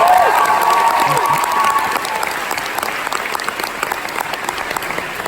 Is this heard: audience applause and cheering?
yes